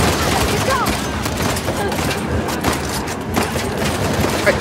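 Rapid gunfire from the video game Uncharted: The Lost Legacy, dense overlapping shots and bursts running loud and steady throughout without a break.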